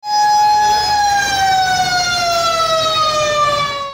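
A fire engine siren wails loudly and close at a building fire in Saddar, Karachi, holding a sustained tone that slowly falls in pitch.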